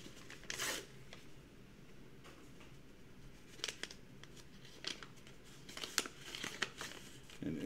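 An envelope being opened by hand, with soft paper crinkling and tearing in scattered bursts, close but quiet, and a few sharper crinkles near the end.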